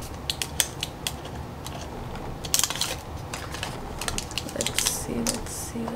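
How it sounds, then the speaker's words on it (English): A dabber scrapes and taps at sticky wax in a run of quick, close scratchy clicks with brief pauses, some sharper bursts midway, and no talk. "I'm just scraping away."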